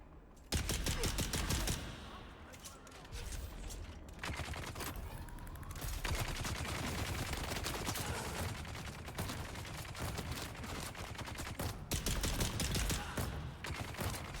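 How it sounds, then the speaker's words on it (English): Bursts of gunfire crackle through Dune Awakening, a video game, in rapid, dense volleys that run almost without a break for about fourteen seconds, sounding moderately distant. "I hear gunfire somewhere."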